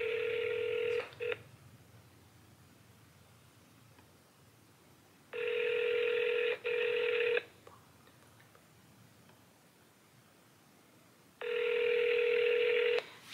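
Telephone keypad tones followed by long ringback tones repeating in regular bursts with gaps of silence between them, an outgoing call that rings on without anyone picking up, heard clearly and close.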